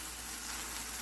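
Chicken wings sizzle steadily in a hot pan as honey goes in, a dense, even frying hiss that stays loud and close for the whole moment with no talking.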